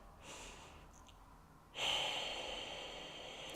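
A slow deep breath taken during a morning yoga flow, a faint airy inhale followed by a louder, sustained breathy exhale, close and alone without talk.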